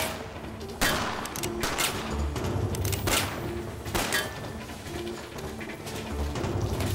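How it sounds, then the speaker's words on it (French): Several sharp gunshots ring out in a reenacted exchange of fire between a thief and a police officer, bursts scattered irregularly over a steady background, moderately loud with no talk. "Il y a alors eu un échange de coups de feu."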